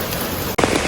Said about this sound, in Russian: Дождь тарабанит